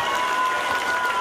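A concert crowd at a 2010 show breaks into loud, continuous applause mixed with crowd noise, a thick, sustained burst of clapping.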